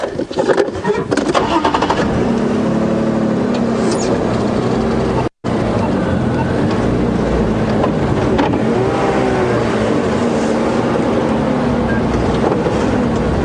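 A safari vehicle pulls away on a morning game drive at Djuma Game Reserve, its engine a loud, steady, close drone with a continuous rumble that runs almost unbroken throughout.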